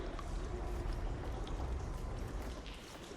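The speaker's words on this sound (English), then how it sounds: "It sounds like the water's switched." Steady rushing water runs through pipes in Horizon Forbidden West, a continuous broadband wash with faint trickling detail that holds at a fairly even level throughout, with no voices.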